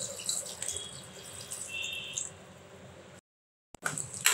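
Water streams steadily into a pot of lentils and chana dal while ridge gourd kulambu is being cooked in a village kitchen. The pour is close, then cuts off suddenly, followed by a brief splash.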